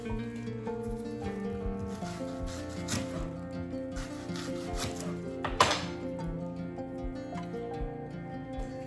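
Knife slicing through an onion on a board, a few soft cuts and taps, one sharper knock near the middle, over a steady low kitchen hum.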